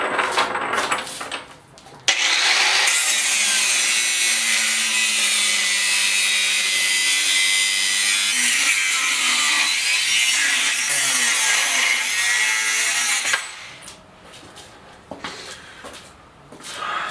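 A power saw cuts through steel pipe for a forge burner, a loud sustained whining grind lasting about eleven seconds, with quieter handling clatter before and after.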